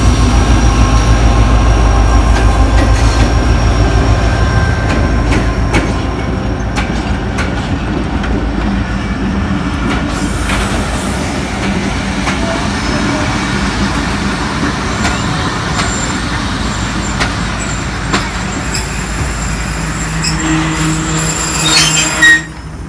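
The Shalimar Express passenger train rolls out of Shorkot station on Pakistani rails, with a loud, close, continuous rumble of wheels and carriages and occasional squeals and clanks.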